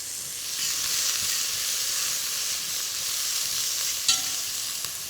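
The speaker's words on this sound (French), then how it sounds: "Je vais ajouter ma préparation gingembre, ail. Je vais mélanger à nouveau." Onions sizzling and frying in a pan as a ginger-garlic mix is stirred in, a steady close hiss throughout with a brief scrape of the utensil near the end.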